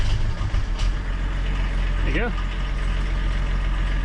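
A BMW E36 engine, run again after 17 years off the road, idles with a steady low drone close by while someone talks over it.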